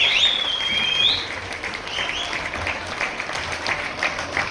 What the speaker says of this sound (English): And a round of applause for him too, please.